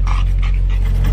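A dog pants rapidly and heavily inside a hot semi truck cab whose air conditioning has failed. The breaths come in a steady, loud, close rhythm with no talk over them.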